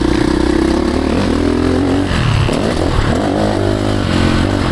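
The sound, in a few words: Ducati Desmo 450 MX dirt bike engine revving on track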